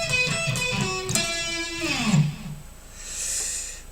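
An electric guitar plays the second lick of a solo, a quick run of picked notes ending in a sustained bend with vibrato that slides away, heard alone.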